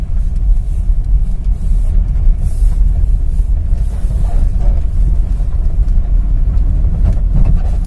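A car engine runs steadily in first gear while driving, giving a loud, constant low rumble with road and wind noise inside the cabin.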